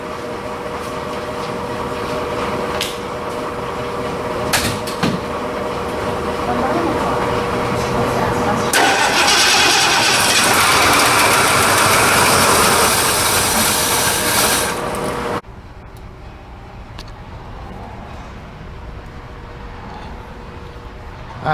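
A Lincoln 460 V8 with a leaking carburetor and a suspect accelerator pump catches and runs with a loud, rough, close mechanical roar that swells midway and then drops to a lower idle. A person talks over it.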